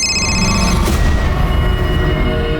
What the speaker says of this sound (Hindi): ये वीडियो देखने के बाद मैंने ताई के बारे में जानने के लिए अजय मोरजकर को कई बार फ़ोन किए